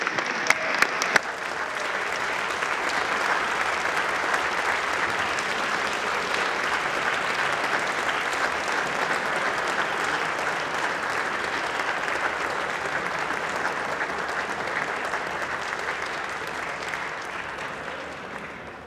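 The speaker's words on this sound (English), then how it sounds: "How about a round of applause?" A large crowd in a state House chamber applauds Minnesota FFA state officers, sustained broad clapping that rises quickly and holds steady for many seconds before tapering, with no talk over it.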